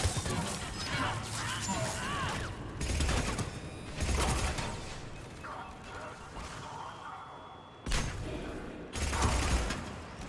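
Hand cannon gunfire from enemies in Mass Effect 3 multiplayer: rapid, loud thumping blasts and crashing impacts come in clustered volleys with mechanical clatter over about ten seconds.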